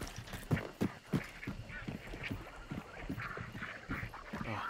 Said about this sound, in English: Surrounded by ducks.